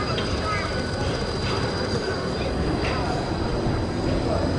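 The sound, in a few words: tram passing on a rainy street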